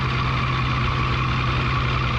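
A 1949 Fordson P6 Major diesel tractor runs at a country show in Scotland, its engine held at high revs in a loud, steady, unbroken drone from close by.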